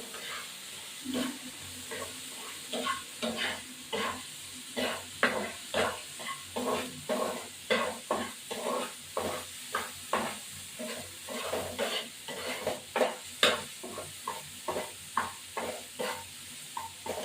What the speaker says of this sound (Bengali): এবারে এই মশলাটাতে ভাজা ভাজা হবে